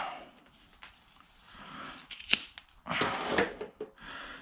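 Material for a homemade four-tire air-up tool is snipped close by, with several sharp cutting clicks and crunches followed by a longer rustling cut, no speech.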